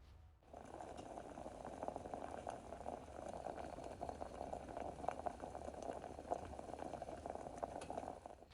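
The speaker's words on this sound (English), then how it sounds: "I'll show you exactly how quickly this coffee will come to a boil" Water and coffee grounds boil over a small alcohol micro stove, giving a steady, close bubbling and rolling simmer that lasts throughout.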